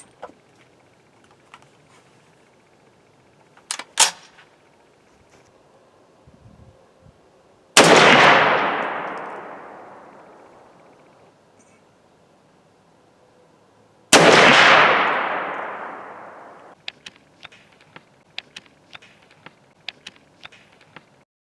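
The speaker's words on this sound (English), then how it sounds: "Shooting the SKS with both the Chinese steel-cased ammunition here" Two loud SKS rifle shots fired with Chinese steel-cased ammunition, each a sharp crack followed by a long rolling echo, with scattered mechanical clicks and handling noises in between.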